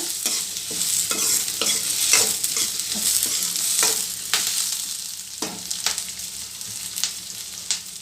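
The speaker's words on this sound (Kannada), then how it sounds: "ಇದೆಲ್ಲ ಸ್ವಲ್ಪ ಚೆನ್ನಾಗಿ ಫ್ರೈ ಆಗಬೇಕು" Spices and paneer masala fry in a pan, a loud, continuous close sizzle broken by repeated scraping strokes of a spoon stirring at an irregular rhythm.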